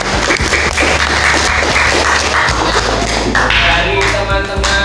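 Sixth-grade classroom clapping, close and continuous rhythmic hand claps with taps and thuds, with some voices mixed in.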